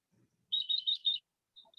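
A bird gives a short burst of high, bright chirps lasting under a second, close and clear against near silence, with a faint extra tweet afterward.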